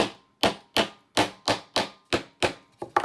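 Hammer taps on a wooden canvas frame, eight sharp knocks in a steady rhythm at about one every third of a second, with a quicker double tap at the end, close and clear with no talking.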